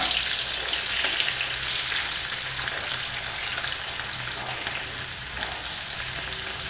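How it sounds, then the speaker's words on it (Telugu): Garlic and small onions fry slowly in oil over low heat while a homemade pain relief oil is prepared. A soft, steady sizzle sounds up close with faint stirring and no speech. "ఇప్పుడేమో వెల్లుల్లి వేగుతుంది కదా."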